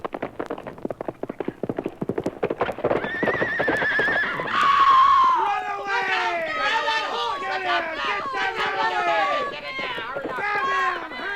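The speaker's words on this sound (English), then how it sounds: "the horse came tearing past at full gallop, foam at the mouth, eyes a-roll wildly, mane and tail flying in the breeze" Radio drama sound effect of a horse at full gallop, rapid clip-clop hoofbeats building, then loud shrill neighs and whinnies over a crowd murmur, with a voice talking.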